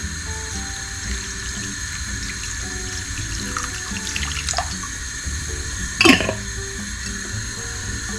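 Water poured into brown sugar in a pan for taho syrup, a steady close trickling hiss with a brief louder splash near the end, no talking.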